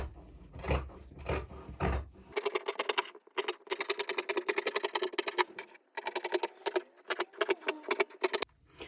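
Fabric being cut around a paper pattern along a held ruler for a simple sun dress, heard as dense rapid crisp snipping bursts in close succession with brief pauses, loud and near, after a short low rumble at the start; no talking.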